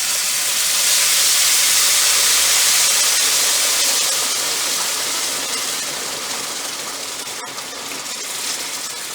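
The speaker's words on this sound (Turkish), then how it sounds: "Şimdi arkadaşlar üstüne sütümüzü, şekerli sütümüzü koyacağız." Sweetened milk poured onto hot flour helva hisses in a loud, steady rush of steam that swells early and slowly eases off, with a brief sharp crackle near the end and no voices.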